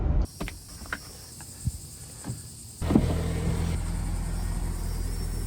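A car driving along the beachfront strip at St. Augustine Beach, a few light clicks and knocks before a steady low road rumble and engine drone take over and hold.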